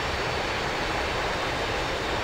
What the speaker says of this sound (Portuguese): Esse é o som da aeronave ligada.